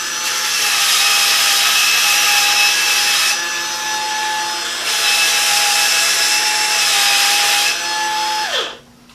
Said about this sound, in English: Let's turn it on. It's pretty quiet.